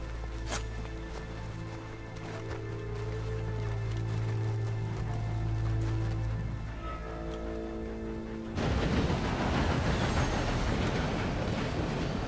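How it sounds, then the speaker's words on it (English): Train in Red Dead Redemption 2 rushing overhead: a low rumble and tonal hum build for several seconds, then a sudden dense, noisy roar of cars passing close takes over for the final stretch. "For a moment, I thought you were gonna let that train ride right over us."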